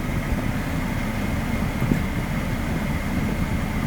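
A train passes a railway crossing in Germany, heard as a steady, fairly faint low rumble and rolling noise that holds evenly throughout without a clear start or end.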